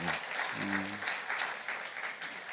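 At a university worship gathering, an audience applauds to welcome a newly appointed professor, a steady wash of clapping that continues throughout, with a brief voice heard briefly near the start.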